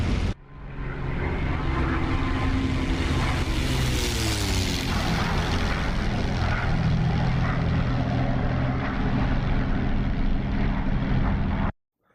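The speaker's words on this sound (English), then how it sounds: "we're going to get a quick little flyby of the P-51" A P-51 Mustang propeller warbird in the DCS flight game makes a loud, sustained engine drone as it flies past, the pitch sliding downward mid-pass before cutting off abruptly.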